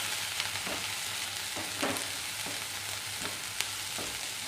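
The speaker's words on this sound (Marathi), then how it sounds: "हे साहित्य टाकून 1-2 मिनिटांसाठी आपल्याला परतून घ्यायचे आहेत" Green chillies, chopped capsicum and carrot sauté for pasta in a home kitchen, giving a steady close sizzle with a few stirring scrapes and clinks.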